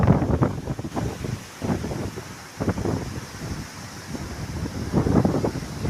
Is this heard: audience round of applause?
no